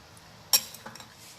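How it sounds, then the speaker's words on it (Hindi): A spoon clinks once against a bowl, followed by a few soft scraping taps as crushed Oreo biscuits are mixed into ice cream, quiet and close. "तो सबसे पहले हमें इस बिस्किट और आइसक्रीम को अच्छी तरीके से वेल मिक्स कर लेना है।"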